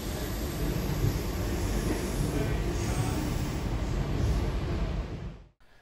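A C set electric train rumbles steadily out of Strathfield Station toward the junction, heard loud and close from on board with a faint high whine, before the sound cuts off abruptly at the end.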